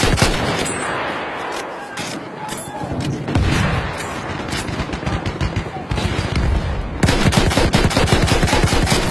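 Dense sustained covering gunfire in the World War I shooter Battlefield 1, rapid machine-gun bursts layered with rifle shots and occasional heavy booms, loud and continuous throughout.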